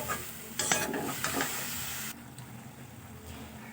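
Khesari greens fry in a pan with salt and turmeric while being stirred, producing a steady close sizzle with scraping stirs that fade to a quieter hiss.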